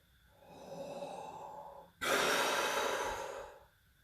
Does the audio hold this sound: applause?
no